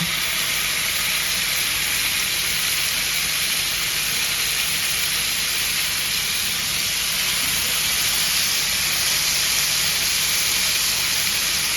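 Marinated fish fries in hot oil in a pan, giving a steady, loud, continuous sizzle and hiss with no break.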